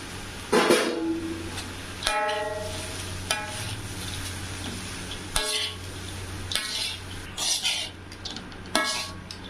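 Cooked basmati rice is tossed and stirred in a pan of Manchurian fried rice, giving a soft sizzle under repeated scraping and clinking of a utensil against the metal pan at irregular intervals.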